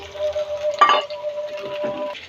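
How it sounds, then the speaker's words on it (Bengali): Pumpkin seeds sizzle steadily as they fry in a little oil in a home kitchen pan, with a brief burst of stirring and clatter just before the one-second mark and a faint tonal hum throughout. "এই তো কুমড়া বিচিটা একটু ভাজা হয়ে গেছে"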